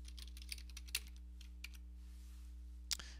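Quiet typing on a computer keyboard while entering a name into an online form, a run of soft irregular key clicks with brief pauses and a couple of sharper taps.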